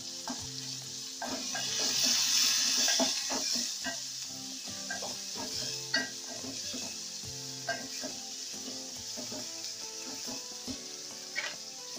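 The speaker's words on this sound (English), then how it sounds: "And we are gonna saute these onions." Onions sautéing in a pan for a simple home egg curry give a steady frying sizzle with repeated scraping and stirring taps, moderately close and heard alone under faint background music.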